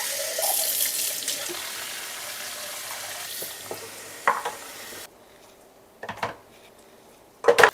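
Tap water runs steadily into a sink while breast pump parts are rinsed, a close hiss that stops midway, followed by a few short bursts of splashing and clatter.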